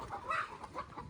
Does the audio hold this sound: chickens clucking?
yes